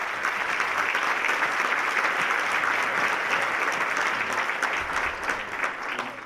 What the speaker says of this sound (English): let's give a big round of applause for the backbone of Cherokee County, the amazing county staff and public safety personnel